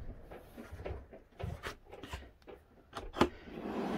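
An RV drawer on a Lance 2375 travel trailer pushed shut and latched, a run of close wooden slides, knocks and rattles ending in a sharper clack, with no voices.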